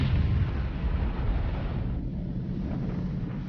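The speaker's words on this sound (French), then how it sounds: "1 tonne de dynamite est enfouie à une grande profondeur." One tonne of dynamite detonated deep underground, heard as a heavy, muffled low rumble that fills the clip and slowly eases, with no voices over it.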